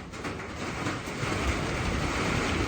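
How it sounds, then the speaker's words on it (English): Steady broadband patter of heavy rain drumming on a roof at Roadford Lake, Devon, continuous and fairly loud with no voices. "excuse the noise of the rain on the roof"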